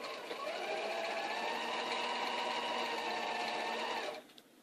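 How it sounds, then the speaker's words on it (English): A sewing machine runs steadily for about four seconds while stitching a seam on an 8-pointed star quilt block, a close, even mechanical whir that stops abruptly. "you want to sew it"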